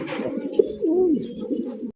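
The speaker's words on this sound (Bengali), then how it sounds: "এই যে দেখেন নর ডাকে কেমনে।" A male Chinese owl pigeon coos close by: a soft rolling coo that swells and wavers for about a second with a short breathy start, then stops abruptly, with no voices.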